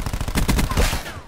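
Rapid bursts of automatic gunfire from the Call of Duty Black Ops 4 video game, a loud, close rattle of repeated shots running through the whole moment with no speech over it.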